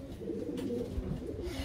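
A recessive red racing pigeon cooing close by, with low, soft, continuous throaty coos running through the clip.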